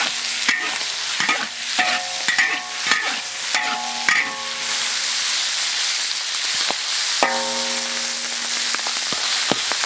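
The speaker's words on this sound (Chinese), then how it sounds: "再下入这个肠子、分分， 给它翻炒。" Chicken intestines, cleaned with alkali, stir-fried in a wok with pickled greens and spices: a steady loud sizzle with repeated scraping, clattering spatula strokes tossing the food, no talk.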